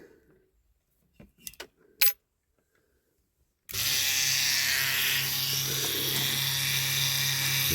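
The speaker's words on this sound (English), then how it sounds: "Let's see if we can grind these off." A grinder runs steadily and loudly, cutting parts off a Corgi Toys diecast Ecurie Ecosse racing transporter, after a few light metallic clicks and taps in near silence.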